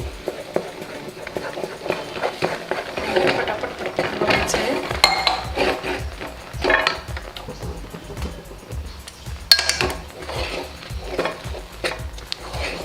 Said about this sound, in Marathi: हलवून हे व्यवस्थित मिक्स करायचं